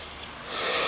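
A single sharp sneeze bursts out nearby, a short breathy blast that grows louder toward its end.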